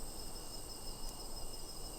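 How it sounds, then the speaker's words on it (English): Bees buzzing inside a shop in the video game Skyrim, a steady high insect drone that hums evenly throughout with no voices. "And you've got bees in your shop"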